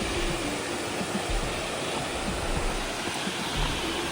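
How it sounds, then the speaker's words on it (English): Steady broadband rush of a waterfall in a natural outdoor setting near Picnic Rock, continuous and fairly loud with no voices. "Waterfall down here."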